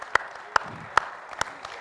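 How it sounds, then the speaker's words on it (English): Audience applause for an award winner at a business networking event, a steady crowd of clapping with a few distinct louder claps standing out, brief and moderately near. "Huge round of applause for him."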